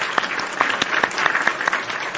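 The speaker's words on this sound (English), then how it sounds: "So round of applause for TNA and a great pay-per-view." Applause from a crowd, a steady wash of clapping with sharper individual claps popping out, moderately loud and continuous.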